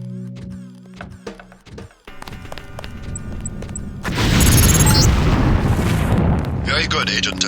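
A LAM explosive mine detonates in the video game Deus Ex: metallic clicks and a voice come first, then a loud, close, rumbling blast erupts and sustains with debris crackle to the end.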